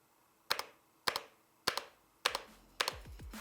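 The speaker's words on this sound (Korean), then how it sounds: "커세어가 지금까지 내놨던 기계식 키보드 중에서 가장 조용한 기계식 키보드" Keys on a Corsair K70 RGB Core mechanical keyboard with red switches are pressed five times at an even pace, each a sharp, close, clacky strike with a short ringing tail, heard alone.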